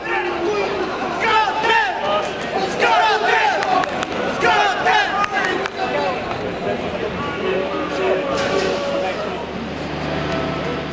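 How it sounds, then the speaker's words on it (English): A large football crowd fills a World Cup stadium in Marseille with dense chatter, shouts and chanting voices, loud and continuous throughout. "At the stadium in Marseille we joined the crowd"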